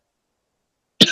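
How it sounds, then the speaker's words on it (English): One short, harsh cough from a man with foam dust from surfboard shaping in his throat, sudden and close after silence. "Sorry for the coughing so much."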